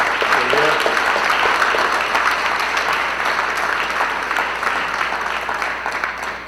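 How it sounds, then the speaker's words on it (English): Dense, steady applause from an audience at a board of education meeting, honoring administrators at the back of the room, sustained throughout and slowly tapering. "can we give a round of applause for administrators in the back?"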